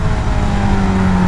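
A KTM Duke 690 motorcycle engine drones while riding, a loud, steady note with a gently rising pitch over rushing wind.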